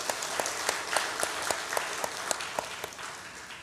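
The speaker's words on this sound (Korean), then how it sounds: "서로에게 박수하겠습니다." A church congregation claps for one another during a Parents' Day service, a dense, even patter of many hands with a few sharper claps standing out, steady throughout.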